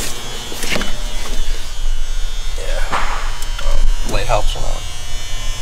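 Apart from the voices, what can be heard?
grinder grinding during car gauge wiring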